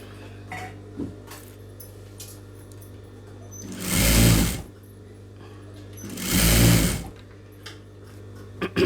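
A sewing machine stitches piping onto blouse fabric in two short, close bursts of whirring motor, separated by pauses over a low steady hum, with no talking.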